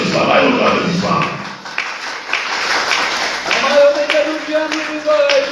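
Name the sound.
audience applause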